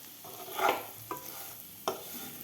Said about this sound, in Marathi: तर मसाला घातल्यावर सुद्धा आपल्याला व्यवस्थित परतून घ्यायचे आहेत या मसाल्यामध्ये हे बटाटे.